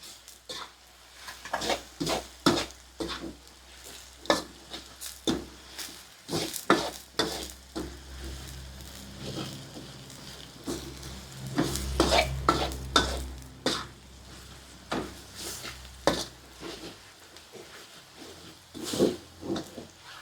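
Sugar caramelizes in a pan for Thai pork leg stew as a spoon or spatula scrapes and clanks against the metal in repeated strokes, over a low sizzle and hiss, with no voices.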